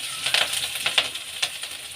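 Garlic, ginger, green chilli, coriander stems and curry leaves fry in a pan with urad dal and mustard seeds, a close crackling sizzle with quick sharp pops scattered throughout, no voices.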